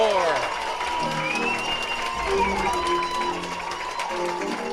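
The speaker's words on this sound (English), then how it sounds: "Listen to this crowd at Vintage Throne Stadium." A baseball crowd at Vintage Throne Stadium in Barrie roars during an IBL playoff game between the Kitchener Panthers and the Barrie Baycats, sustained cheering and shouting with rising whoops and voices carrying over a constant wash of noise.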